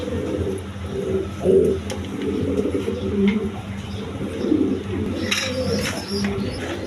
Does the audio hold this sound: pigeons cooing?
yes